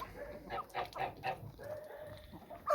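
Hens in a backyard laying flock cluck in short repeated bursts alongside a few other poultry calls, fairly close and moderate in volume against a busy farmyard background.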